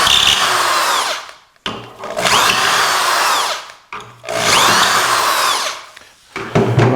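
Power drill boring dowel holes into wood through a Dowelmax jig, loud and close, with three sustained whining runs separated by brief pauses as the bit is withdrawn and repositioned.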